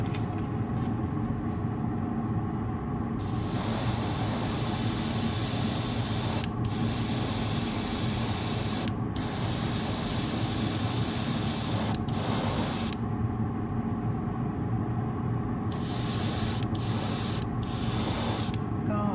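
A 0.3 mm airbrush sprays ready-to-use model paint at about 0.8 bar, a loud close hiss in long bursts with several short pauses and one longer break.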